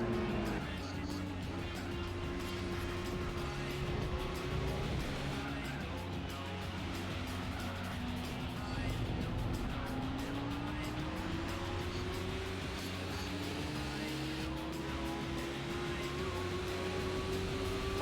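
A TVR sports car engine in the racing game Gran Turismo 4 drones continuously, its pitch climbing gradually as the car accelerates, over a steady background wash.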